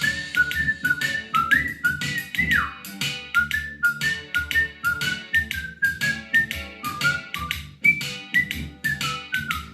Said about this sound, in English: Whistle time.